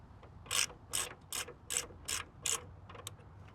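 Socket wrench ratcheting on a nut during a LandCruiser repair: six quick, evenly spaced clicking bursts up close against a quiet background, then a few faint ticks.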